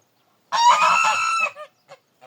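A gander gives one long, loud, nasal honk close by, followed by a few short, quieter honks in the silence.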